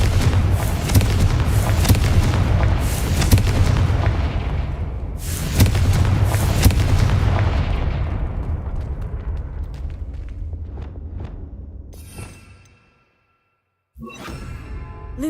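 A loud booming blast from the Confringo explosion spell in Hogwarts Legacy rolls out, with a second heavy impact midway and a long decaying rumble fading toward silence before a brief burst of noise returns.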